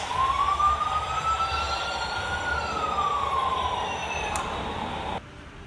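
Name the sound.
police car siren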